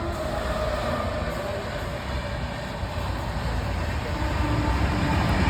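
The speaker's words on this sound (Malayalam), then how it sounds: "നമ്മളിപ്പോൾ കാഞ്ഞങ്ങാട് റെയിൽവേ സ്റ്റേഷനിലാണ്" A train at Kanhangad railway station gives off a steady, fairly loud rumble that fills the whole stretch without a break, with a slight swell toward the end.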